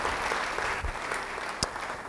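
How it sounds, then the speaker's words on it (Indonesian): A congregation at an Indonesian church service applauds, with a steady wash of distant clapping throughout and one sharper clap near the end. "Beri tepuk tangan buat Tuhan."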